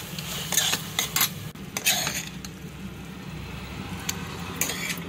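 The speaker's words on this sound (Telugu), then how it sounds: "ఇప్పుడు డిష్ అవుట్ చేసుకుందామండి" Ridge gourd curry is served from a pan with a metal utensil, producing scattered clinks and scrapes of metal against metal over a low steady background hum, with no voices.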